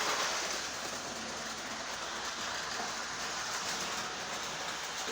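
Model trains run on a model railroad layout, making a continuous rushing, rumbling clatter that stays close and steady throughout with no talking.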